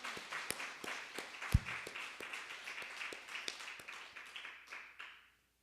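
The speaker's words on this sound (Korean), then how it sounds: "영광의 박수 드리겠습니다." Congregation in a church at a Sunday worship service claps together, a dense steady patter with sharp individual claps and a faint sustained tone beneath, fading out over the last second.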